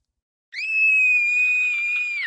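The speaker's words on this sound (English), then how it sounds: "As a child star, Barbara was famous for her scream." A young girl lets out a long, piercing scream in the video game What Remains of Edith Finch; a single sustained, high, steady cry starts abruptly after silence and holds loud to the end.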